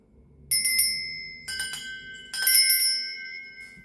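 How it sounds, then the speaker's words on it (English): Handheld bells struck in three separate bursts, each a bright ringing chime with a lingering metallic tone, played to cleanse a space, close and fairly loud with no talking. "I'm going to be ringing these bells now."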